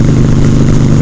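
A Harley-Davidson Softail motorcycle engine runs loud and close, a dense, steady low rumble with throaty pulsing that holds without pause through the short moment.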